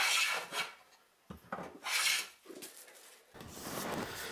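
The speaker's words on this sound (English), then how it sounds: "I'm going to move my plane over towards that edge" A hand plane takes shavings off a wooden Telecaster guitar body in several rasping strokes, each a close, bright swish separated by brief pauses, the last stroke longer and steadier.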